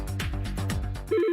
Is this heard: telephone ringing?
yes